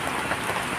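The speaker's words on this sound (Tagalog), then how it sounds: "kasi malakas yung ulan mga kalakbay" Heavy rain pours down in a dense, steady hiss of drops hitting surfaces nearby, loud and unbroken, with no voices over it.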